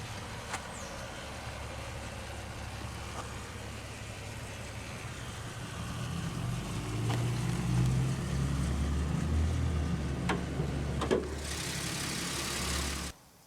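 A 2001 Oldsmobile Alero GL coupe with GM's 3400 3.4-liter naturally aspirated V6 cranks and starts, settling into a steady low idle heard up close, with no talking.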